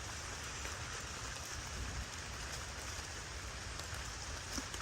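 Steady rain falling, an even hiss of dense drops that continues without a break throughout, fairly faint and with no voices.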